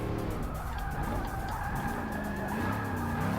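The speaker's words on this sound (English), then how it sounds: "The wheels seem to slip very easily in this thing." A stock Dodge Challenger Hellcat on street tires in Forza Motorsport 6 drifts with its tires squealing and skidding continuously under a loud engine roar, close and sustained with no talking.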